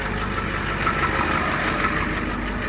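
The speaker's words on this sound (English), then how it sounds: "It's got an exhaust leak right at the front of the manifold." A 1991 Navistar bus's large diesel engine idles steadily nearby, a low rumbling drone with a faint ticking, puffing rasp running through it from an exhaust leak at the front of the manifold.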